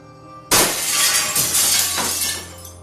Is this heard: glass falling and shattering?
yes